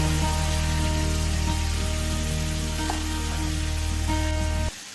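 Beef brain stirred in a hot pan, giving a loud, steady, continuous sizzle with occasional soft spoon scrapes close up, running without pause until it cuts off near the end.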